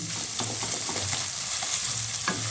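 Ginger garlic paste sizzles steadily in a hot pan while being stirred for mushroom masala, a close, continuous frying hiss with scraping taps of a spatula.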